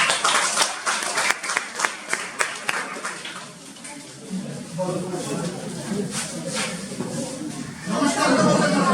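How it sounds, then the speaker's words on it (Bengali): An audience claps at a spoken talk, with bursts of hand clapping in the first seconds, then a speaker's voice continuing over lighter scattered claps before the clapping swells again at the end. "আরেকবার হাততালি দাও।"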